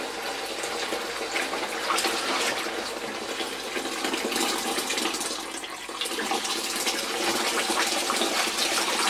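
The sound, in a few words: water filling a sink to soak a vintage Hoover cloth bag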